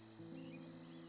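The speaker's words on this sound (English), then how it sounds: "You can hear the crickets" Crickets chirp faintly in a nighttime scene of the video game Quest for Glory V, a thin steady high-pitched trill over a low sustained background tone, heard alone.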